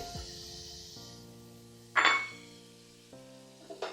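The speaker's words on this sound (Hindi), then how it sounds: "बस इसमें मैंने बटर डाल दिया" Butter sizzling in a heated dish for Old Delhi-style makhni butter kofta, a steady soft frying hiss with a couple of sharper clinks of a utensil against the dish, no talking.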